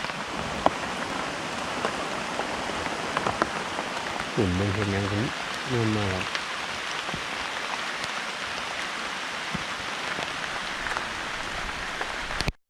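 Steady rain falls outdoors while eucalyptus mushrooms are gathered, a continuous close hiss of drops on surfaces throughout, with someone talking briefly midway.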